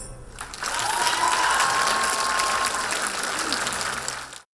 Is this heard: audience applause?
yes